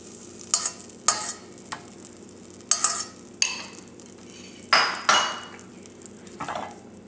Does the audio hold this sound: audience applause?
no